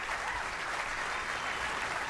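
Bowling crowd applauding Kelly Kulick's PBA Tournament of Champions win, a steady wash of dense clapping throughout the brief moment, moderately distant.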